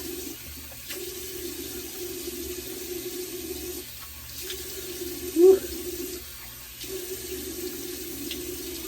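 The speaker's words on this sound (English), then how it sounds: "excuse me while I rinse my head real quick. Cold water." Cold tap water runs steadily into a bathroom sink while a freshly shaved head is rinsed, a close, continuous splashing flow that briefly cuts off a few times.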